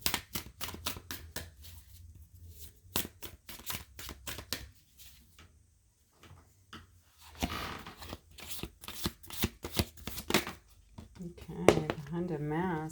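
Quantum energy oracle cards being shuffled by hand in a string of crisp, rapid riffling bursts, with brief pauses between runs and a voice murmuring faintly near the end.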